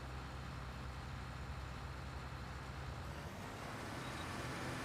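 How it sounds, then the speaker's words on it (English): A truck rumbling past outside, a steady low broadband roar of roadway traffic that stays faint and distant throughout, with no talk over it. "Can you still hear the truck"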